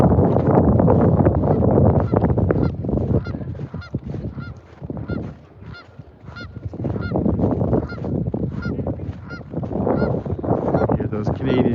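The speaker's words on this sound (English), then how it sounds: "Hear those Canadian geese, they're not happy that I'm walking up to them here." Canada geese honk repeatedly in a loud, agitated chorus near open water at Indian Battle Park on the Oldman River in early March. The calls come thick and close, dip briefly in the middle, then surge again, with some wind rumble underneath.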